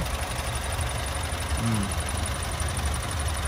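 Engine of a 2018 Honda Brio RS idling with the bonnet open, heard up close as a steady, even low hum that stays constant throughout with no revving.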